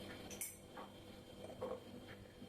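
A utensil scrapes and clinks against a pot as a cooked dish is stirred with salt and grated coconut in a home kitchen. The taps are soft, sparse and irregular, with faint room noise between them.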